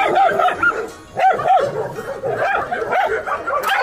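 A rescued stray dog in China barks and yips in short, repeated bursts close by, with some whimpering between the barks.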